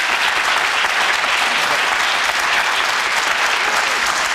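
A studio audience at a televised political debate claps steadily and loudly throughout, a dense, even wash of applause with no breaks.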